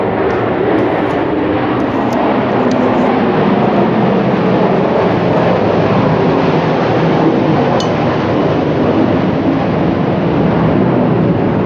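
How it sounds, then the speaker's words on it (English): A plane passes overhead outdoors, a loud continuous broadband roar of jet or propeller engine holding steady throughout, with no talk. "And I'll just wait for the plane to go overhead."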